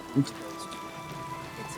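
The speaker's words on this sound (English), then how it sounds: "In game. It's raining in game." Steady soft rain patter from the video game Oblivion Remastered, a hiss of falling drops, fairly faint, with a brief low thump near the start and no clear speech.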